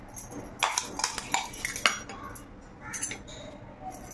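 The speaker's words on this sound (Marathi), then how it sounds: "मिरची लसूणचं वाटण आपण जे बनवून घेतलं ते आपण ह्या बाउलमध्ये सगळं काढून घेणार आहोत" A spoon scrapes and clinks against a bowl while chilli-garlic paste is transferred into it, giving quick, light metallic taps close by, then a quieter pause.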